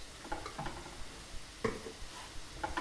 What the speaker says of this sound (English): And just stir that through now